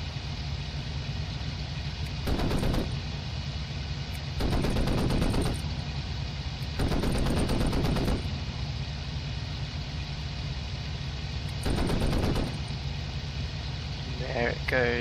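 In the Cliffs of Dover flight game, a Bf109 fires its guns in four rapid bursts of cannon and machine-gun fire, each lasting about a second or two, over a constant engine drone.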